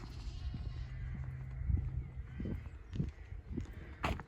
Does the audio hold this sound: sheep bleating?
yes